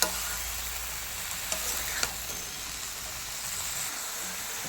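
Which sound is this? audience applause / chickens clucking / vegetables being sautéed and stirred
vegetables being sautéed and stirred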